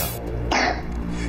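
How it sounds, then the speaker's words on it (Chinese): A young child coughs once at night during disturbed sleep with suspected sleepwalking. The single short, close cough stands out over a steady background hum. "咳嗽。"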